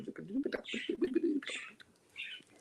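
A voice imitates parakeet and finch calls with warbling, cooing chirps and then higher trilling bursts, close and fairly quiet, with short pauses between phrases.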